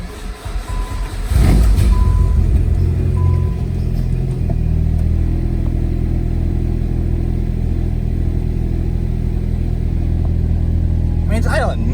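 A turbocharged Nissan Sentra Spec V idles in neutral with a steady, deep, even rumble that holds close and loud for the whole stretch, after a brief rougher surge at the start.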